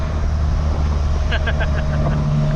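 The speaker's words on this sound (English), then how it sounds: "the wind noise in this thing is atrocious" Loud, steady roaring wind buffeting in an open Polaris Slingshot, with a low engine drone underneath, constant throughout, with a few faint rhythmic clicks midway.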